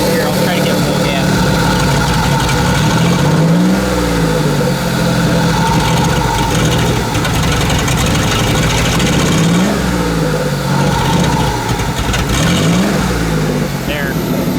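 A Regal 2.0 engine with throttle trouble runs loudly close by and is revved in a few uneven rising swells over its rumbling idle, while a person talks.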